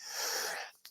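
A single short, breathy sneeze bursts out close to the microphone, a hissing rush that ends with a brief sharp catch.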